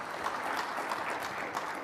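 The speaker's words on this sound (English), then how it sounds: "I think that video deserves a round of applause, ladies and gentlemen" Ladies and gentlemen at a summit opening ceremony give a round of applause, a steady, even wash of clapping at moderate volume.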